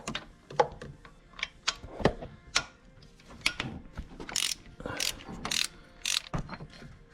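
A ratchet loosening a 12mm bolt on a top plate in the engine bay of a 2009–2014 Acura TL: bursts of quick clicking and metallic clatter, close and moderately loud, with handling noises between strokes.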